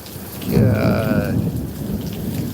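Steady outdoor rain forms a dense, loud wash, with a brief tonal sound near the start and nobody speaking.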